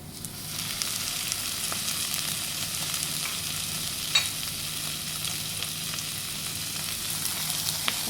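Shrimp frying and sizzling with garlic and fresh chili in a hot pan, a steady dense crackle and hiss with occasional stirring clinks, close and continuous throughout.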